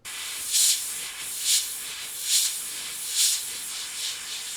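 A Gaahleri GHAD-39 airbrush running at higher air pressure gives a constant close hiss, with about five evenly spaced louder spray bursts swelling over it.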